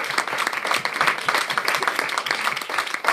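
A church congregation applauds the Lord during a French-language worship service, with steady, sustained clapping from many hands filling the room, brisk and even throughout.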